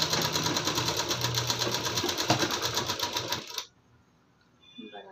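A sewing machine stitching a lined suit runs in a fast, even, rattling rhythm close up for about three and a half seconds, then stops abruptly, leaving near silence with a faint rustle at the end.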